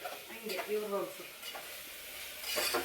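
Masala curry being stirred as it fries in a pan, with a soft scraping of the spoon and a steady low sizzle running throughout, close and moderately loud, no voices.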